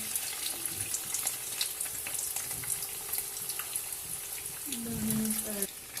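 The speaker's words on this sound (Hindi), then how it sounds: "और मज़ेदार से समोसे हमारे अभी 2-3 मिनट में फ्राई हो जाएंगे" Chicken samosas deep frying in hot oil in a kadhai, a steady bubbling sizzle throughout, with brief clinks near the end.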